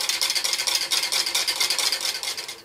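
Egg yolk, salt and lemon juice stirred briskly in a bowl for a quick hollandaise, giving rapid, even scraping swishes close by in a steady rhythm, with no voices.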